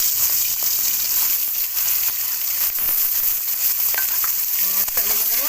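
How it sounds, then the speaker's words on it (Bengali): Koi fish sizzles and spatters loudly in hot oil in a wok, a dense continuous frying hiss with occasional sharper crackles. "মাছটা ভাজার জন্য কড়াইতে তেল দিয়ে দিয়েছি, তেল গরম হয়ে গেছে"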